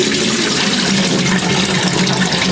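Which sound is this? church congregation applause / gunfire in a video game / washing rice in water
washing rice in water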